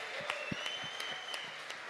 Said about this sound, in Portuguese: Você pode aplaudir mais forte